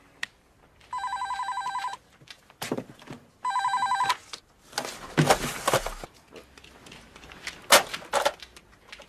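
A telephone rings twice in clear, evenly spaced electronic bursts, followed by handling clatter and a few sharp knocks as the receiver is picked up, in a quiet room.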